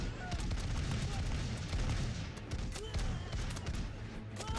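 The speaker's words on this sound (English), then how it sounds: "Alright, it's time for second volleys." Musket volleys crackle in the TABS battle game as massed renaissance units fire, a rapid scatter of sharp shots and booms layered over a rumbling battlefield din with no pauses.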